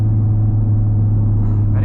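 Audi TT RS car driving, with a steady, loud low engine drone and road rumble that continues without a break, and a slight rise in brighter noise near the end.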